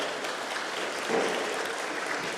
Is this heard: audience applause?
yes